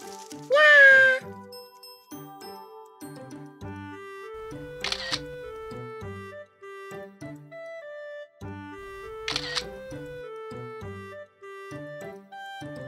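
Two sharp camera shutter clicks, several seconds apart, over steady cheerful background music, with a brief bright chime near the start.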